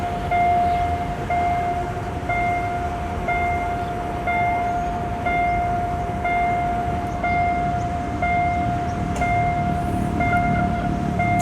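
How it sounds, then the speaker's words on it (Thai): Suburban train number 380 at the RCA railroad crossing in Bangkok, with a steady crossing bell tone ringing throughout over a rumbling passing train, loud and continuous. "ตอนนี้เราก็จะมาชมขบวนรถชานเมืองที่ 380 ชุมทางชาเชิงเซา กรุงเทพ ผ่านจุดตัด RCA นะครับผม"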